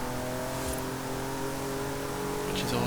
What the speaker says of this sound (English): it's not quite the most exciting V12 engine ever, but definitely sounds good, and it revs really well